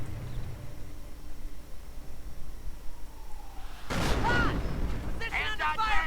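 Mortar rounds land in a WWII real-time strategy game, a sudden loud burst of impacts after a quiet stretch, followed by further crackling blasts close by.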